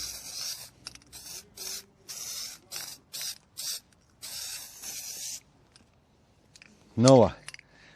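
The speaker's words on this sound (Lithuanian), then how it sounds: "šiandien dažysim neįprastai lauke prie minuso ir su balioniuku" A handheld aerosol spray paint can coats a car outdoors in sub-zero winter weather, giving a run of short, close hissing bursts with brief pauses between them, followed by a single short voiced sound near the end.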